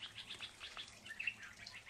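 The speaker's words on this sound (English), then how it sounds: "all I hear now is beautiful birds that are all around telling me it's very, very peaceful here" Birds singing outdoors in a peaceful spot, a string of light chirps and tweets repeating at a moderate distance over quiet background.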